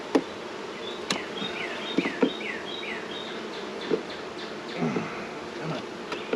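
Honey bees buzzing around an open beehive during an inspection, a steady close drone with scattered wing passes and light clicks of handling.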